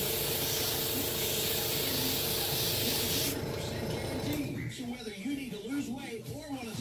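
An airbrush sprays paint over rivets in a steady, close hiss that cuts off partway through, while someone talks over and after the spraying.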